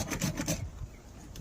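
Sanding and scraping old wooden siding on a 125-year-old Texas house gives a few quick rough rasping strokes close by, then a quieter pause and a faint final scrape.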